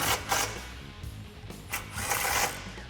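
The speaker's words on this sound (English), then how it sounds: "Grab your 13mm deep socket and extension and tighten those down over top of the rear sway bar." Ratcheting socket wrench with a 13mm deep socket and extension tightening exhaust hanger bolts above the rear sway bar of a 2018-2020 Mustang GT during a Borla cat-back install, several short bursts of clicking with quiet gaps between.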